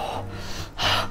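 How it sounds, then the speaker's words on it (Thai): Sharp, forceful breaths from a cyclist climbing a steep 20-25% hill, two quick gasping exhalations close to the mic with no talk. "เราจะหายใจทีๆแบบนี้"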